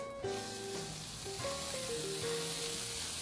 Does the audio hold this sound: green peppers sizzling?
yes